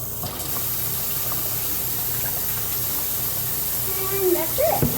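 A steady, loud rush of running water from a tap pours as a pot is rinsed out, with a few clinks and a short gurgle near the end.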